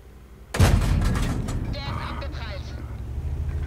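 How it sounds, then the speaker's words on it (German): A heavy tank cannon fires in World of Tanks, a German Panther on the Wadi map, with one loud sudden boom followed by a long rumbling decay and mechanical noise. "Ich habe zwar getroffen, aber der Schuss ging nicht durch."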